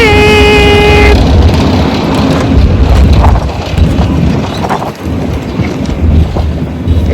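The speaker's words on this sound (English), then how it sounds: "It's gonna be very windy." Strong wind roars over the microphone during a desert safari in Jordan, a loud continuous rumble with gusts, preceded by a brief tonal chime at the start.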